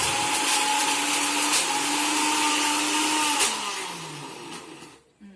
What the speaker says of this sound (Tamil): எல்லாத்தையும் மிக்சி ஜாரில் போட்டு அரைச்சி எடுத்துட்டேன்